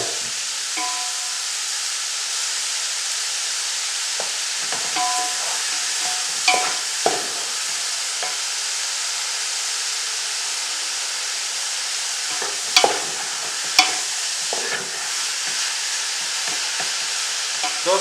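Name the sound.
mushrooms frying in melted butter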